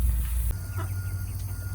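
Brief clucking from nearby chickens, a few soft bird calls over a low rumbling background with a sharp click partway through.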